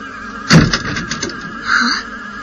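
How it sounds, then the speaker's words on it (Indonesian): A door swings shut on its own inside a house, a single firm knock followed by a fainter creaking squeal a moment later, close by with no voices. "Pintu itu tertutup sendiri."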